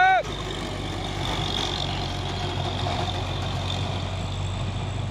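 Diesel rumble of a Hino truck, apparently among cargo trucks on a road, running steadily and fairly close throughout with a low engine drone and mid-range noise, after a brief tonal onset at the start.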